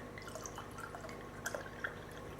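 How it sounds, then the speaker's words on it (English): Wine poured into a glass, a soft, steady trickle with scattered little splashes and drips, faint against a low background hum. "Let me just pour some more wine"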